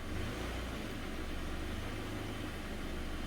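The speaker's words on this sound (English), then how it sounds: "Start it up, put it in drive." A 2012 Subaru Impreza engine running steadily, a continuous low hum with a brief rise near the start, close by and fairly loud, with no talking.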